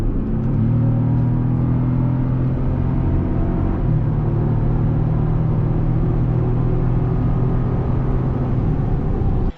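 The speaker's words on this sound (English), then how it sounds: "we'll give it a little bit of gas quick and we'll see." A 2021 Chevy Colorado ZR2 pickup accelerates from inside the cab: a steady low engine drone whose pitch climbs in stages as the revs build, with a dull rumble beneath and nobody speaking.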